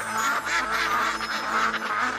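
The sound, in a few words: duck quacking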